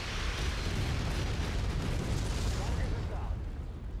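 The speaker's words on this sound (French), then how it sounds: "l'artillerie qui en est déjà pilonnée" Artillery bombardment in the MechWarrior 5 video game rumbles as a continuous dense barrage of booms and blasts, loud and steady throughout, with game noise layered beneath.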